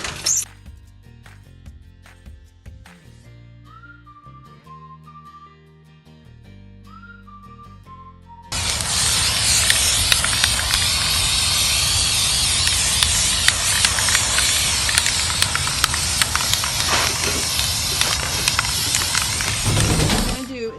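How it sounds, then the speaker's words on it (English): A long, steady hiss of a spray paint can starts after a few quiet seconds and continues loudly without pause, close by. "so that I can spray paint this"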